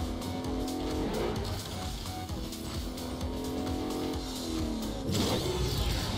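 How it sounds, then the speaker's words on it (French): Car drifting in the video game Agents of Mayhem, a continuous engine roar with sustained tire squeal throughout, loud and steady, rising briefly near the end. "Moi j'étais en train de taper un dérapage sur tout le long là."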